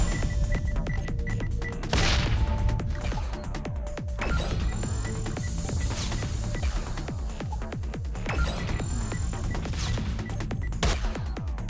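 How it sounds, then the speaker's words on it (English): Weapons fire and stun grenades in the sci-fi space video game Trigon: Space Story: dense, continuous volleys of shots and sharp crashing impacts, loud and busy throughout, with no talk. "Start dropping out our own stun grenades."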